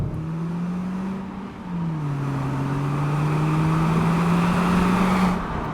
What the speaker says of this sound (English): when you want to drive it quickly, you put it over into manual, you pull a paddle